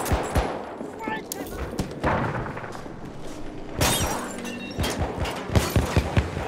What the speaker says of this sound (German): Das Maschinengewehr!